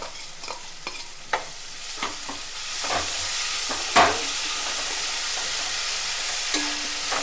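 Onions frying in a pan with ginger garlic paste, a constant hissing sizzle with a series of scraping, clinking stirs from a spoon, some sharper knocks against the pan, and no talking.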